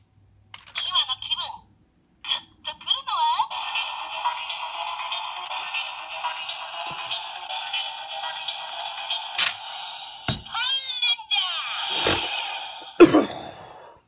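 DX Lupin Kaiser toy's electronic team-selection effect: a long sustained synthetic tone with bright chiming layers, preceded by a few short clicks and followed by warbling electronic bursts and sharp clicks, close to the microphone.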